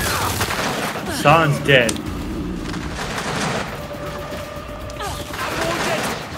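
Gunfire in the Gears of War 5 Hivebusters campaign, with a short burst of loud shots and impacts over game ambience and a few spoken lines.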